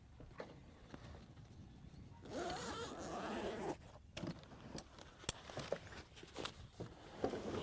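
Zipper closing a pocket on a Savior Equipment Urban Warfare gear bag, a short rasping pull up close among light handling clicks and rustles.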